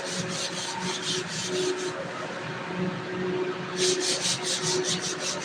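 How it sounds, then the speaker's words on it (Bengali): Rhythmic scraping and rubbing on a ship's surface to prepare it for painting, quick repeated strokes in bursts, pausing briefly in the middle before resuming. "এগুলো আমি ঘষায় ঘষে রাখছি"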